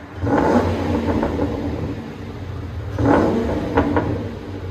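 A 2004 Ford Crown Victoria with a 4.6L V8 and SLP Loudmouth true dual exhaust gives two short, loud revs a few seconds apart, each a throaty swell settling back to a deep burbling idle.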